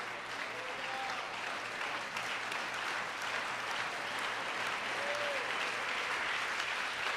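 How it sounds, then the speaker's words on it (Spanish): Congregation applause during a church sermon, a steady, somewhat distant wash of clapping. Faint voices call out underneath it. "Si ese aplauso es para Él"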